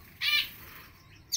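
Small birds chirping: two brief, high, bright tweets about a second apart, fairly faint against a quiet background with no talking.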